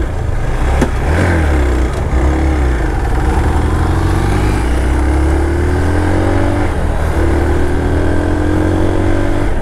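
A Hero XPulse 200 motorcycle engine labours up a hill in top gear, a steady, loud, strained drone whose pitch creeps slowly upward, with wind rush throughout.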